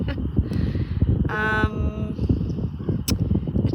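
A crow caws once, loud and harsh, near a lakeside campsite at Cat Lake in the Haliburton Highlands at dusk, over a soft outdoor background with a few faint clicks.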